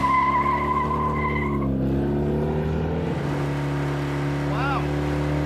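A Plymouth Dart with a 440 engine revs loudly from a dig, a deep sustained engine roar with a brief higher whine early on and a rising pitch sweep as it pulls away.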